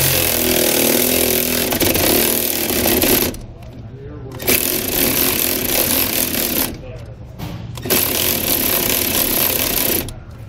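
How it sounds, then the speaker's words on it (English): Impact wrench or ratchet running a bolt down with a 3/4 inch socket while installing Roadmaster Comfort Ride shock absorbers on a 2021 Coachmen Apex Ultra travel trailer, with loud continuous rattling bursts broken by two short pauses. "We're gonna use a 3/4 inch socket and wrench again."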